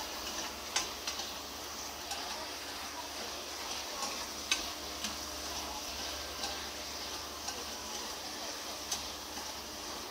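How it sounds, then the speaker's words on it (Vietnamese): Meat stir-fried in a pan sizzles quietly and continuously, with regular ticking scrapes of a spatula against the metal as it is tossed, heard close and low with no voices. "Xào cái thịt cho nó chín"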